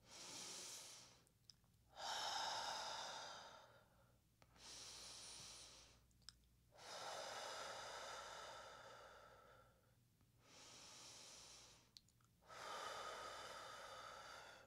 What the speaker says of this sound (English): in through the nose, out through the mouth